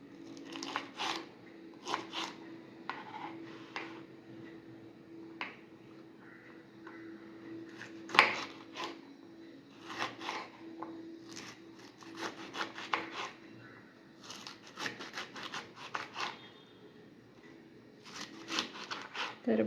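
A knife slices through fresh okra (bhindi) on a cutting board for a quick bhindi fry, giving a run of short, crisp, irregular chopping taps close by, with brief pauses between bursts.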